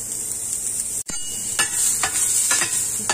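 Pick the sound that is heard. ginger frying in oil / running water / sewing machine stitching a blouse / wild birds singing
ginger frying in oil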